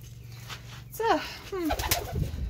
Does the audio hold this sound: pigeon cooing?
yes